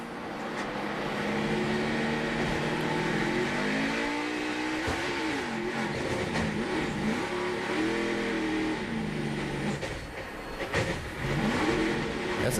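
NASCAR race car leaving a pit stop at the 2010 O'Reilly 300 at Texas, engine revving and rising in pitch as it accelerates away, with other cars droning in the background of the track.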